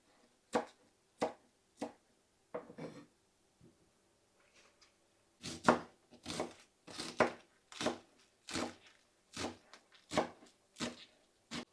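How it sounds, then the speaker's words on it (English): A knife chops washed bok choy into small pieces on a cutting board, a series of crisp, close, evenly spaced thuds, sparse at first and then faster and more regular. "now I'm just going to cut my bok choys up. I cut them in simple small pieces like so."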